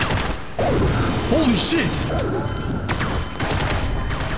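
Bursts of gunfire in the video game Half-Life 1 pop and rattle irregularly, with mechanical clatter, while a player's voice exclaims over them.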